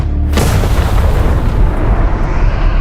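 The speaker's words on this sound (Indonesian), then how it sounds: "Pesawat Suho meledak di udara, hancur berkeping-keping di balik kobaran api." An aircraft blows apart in mid-air as a sound effect, a sudden loud blast that swells into a sustained, rumbling roar of fire and debris lasting several seconds with no speech.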